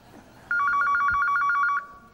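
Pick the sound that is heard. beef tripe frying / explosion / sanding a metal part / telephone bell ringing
telephone bell ringing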